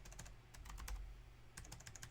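Quick bursts of typing on a computer keyboard, close and quiet, with a run of keystrokes, a short pause, then another run; no speech.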